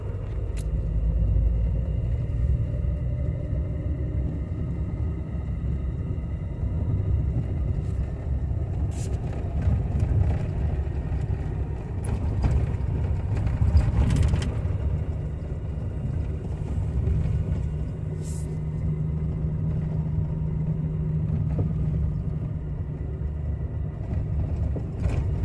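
A Jeep with 3.07 gears driving through the Nevada high desert, heard from inside as a steady low engine and road rumble with wind buffeting and occasional rattles throughout.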